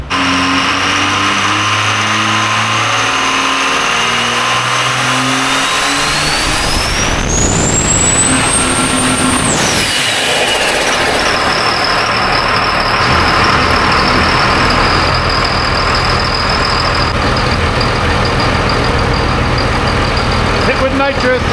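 A car engine with new injectors and nitrous revs loudly on a dyno stand, climbing to a high whine, then dropping back to a rough idle. Someone speaks over the engine noise.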